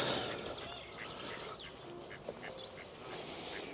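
Ducks quack faintly in the distance on a lake, a few scattered calls over steady wind and outdoor noise.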